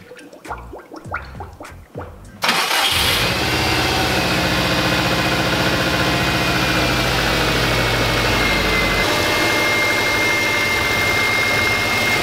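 A few short sputters and knocks lead into a Subaru WRX engine catching and settling into a steady, smooth idle that hums on loudly and evenly.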